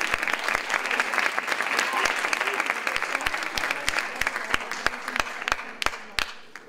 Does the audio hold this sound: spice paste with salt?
no